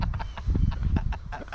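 A bird, sounding like a chicken, gives a quick run of close, repeated clucks over a low rumbling background outdoors.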